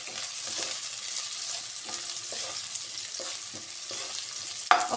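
Radish greens with turmeric frying in a pan, a steady high hiss of oil under light intermittent scrapes of a stirring spoon, close and with no voices.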